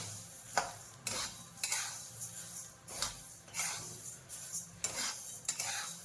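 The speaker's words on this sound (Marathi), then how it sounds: "आपण याला चांगलं असं भाजून घेऊया। आपल्या आता धन्याचा रंग चेंज झालाय।" Coriander seeds dry-roast in a pan for a Maharashtrian spice masala, stirred with a spatula in repeated scraping, rattling strokes about every half second over a faint dry crackle, close and fairly quiet.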